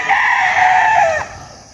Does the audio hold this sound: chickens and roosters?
yes